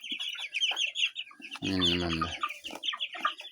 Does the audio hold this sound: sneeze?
no